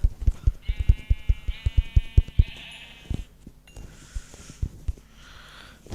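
Sheep bleat in the video game Minecraft, several wavering calls over rhythmic thumping footsteps, fairly close and clear.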